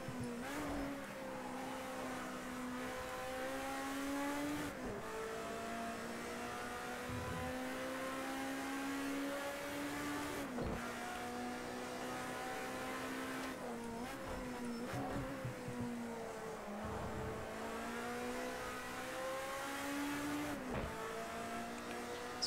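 Racing car engines in a video game race drone continuously with rising and falling pitch through shifts and corners, loud and steady, with brief clicks at gear changes.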